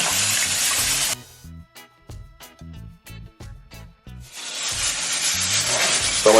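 Rice for Jamaican rice and peas is washed by hand in water: a loud rush of running or sloshing water, then a quieter stretch of wet rubbing and clicking grains, before the gushing water returns.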